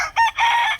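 A rooster crows once in a backyard farm in Punta Tanza, Cavite: a loud, close, two-part call, a short opening note and then a longer held cry, with no voices.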